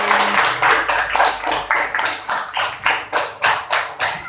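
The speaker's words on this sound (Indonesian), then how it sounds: "Jadi tepuk tangan untuk Putri." A classroom of students claps together for a classmate in a fast, steady rhythm, each clap sharp and even, continuing for several seconds with a brief low voice at the start.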